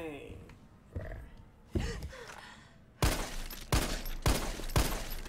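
Pistol fire from the Resident Evil 3 Remake rings out as several loud, sharp shots spaced about a second apart, following breathy gasps and game voices.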